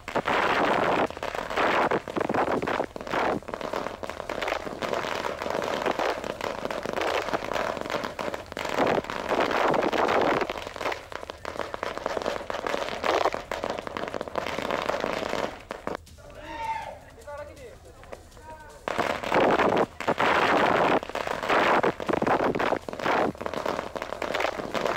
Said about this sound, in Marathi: त्यांच्या कार्यकर्त्यांनी फटाके फोडून आनंद व्यक्त केलेला आहे.